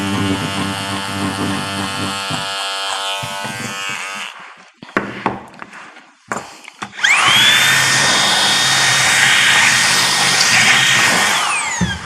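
A rug carving machine trims a tufted rug. It hums steadily at first, goes quiet with a few bumps and handling knocks, then starts up again into a loud, high, buzzing whir that runs to the end.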